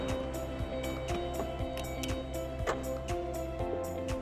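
An electric reach forklift, a CQD16 AC series truck, drives and accelerates with a steady low motor hum and periodic rhythmic clicks and ticks, close and moderately quiet with no talk over it.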